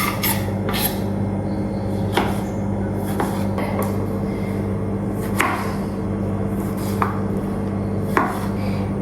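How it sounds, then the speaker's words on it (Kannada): Knife chopping vegetables into small pieces while making a simple breakfast at home, sparse sharp cuts spaced irregularly over a steady low hum. "ಇದನ್ನೆಲ್ಲ ಸ್ಮಾಲ್ ಕಟ್ ಮಾಡಬೇಕು"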